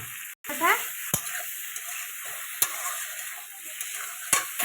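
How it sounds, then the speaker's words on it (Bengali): Chicken pieces sautéing in a pan for a home-style chicken stew, giving a steady sizzle with occasional stirring scrapes and clicks, close and moderately loud with no talking. "এবার চিকেনটা দিয়ে দিচ্ছি চিকেনটা একটু সাঁটলানো হলে তারপরে আমি সবজিগুলো দেবো"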